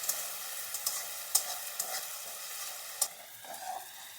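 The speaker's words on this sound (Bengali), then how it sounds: "আদা রসুন দিয়ে আর একটু ভেজে নিচ্ছি, যতক্ষণ না কাঁচা গন্ধটা চলে যাচ্ছে" Ginger garlic paste fries in a pan for a potato-and-egg curry, a steady hiss with scattered sharp crackles and a few louder spatula scrapes, close and continuous without any voices.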